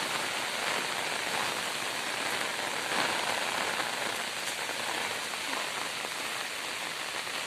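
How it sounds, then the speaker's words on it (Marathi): Heavy rain pours steadily and close by on a surface, a dense continuous hiss of drops with no pauses and no voices. "पाऊस पण भरपूर लागता."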